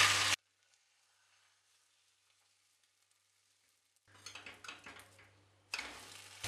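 Beaten egg poured into a small frying pan sizzles and crackles, a short loud burst at the start, then near silence before the frying returns in gentle bursts alongside faint pan and utensil noises.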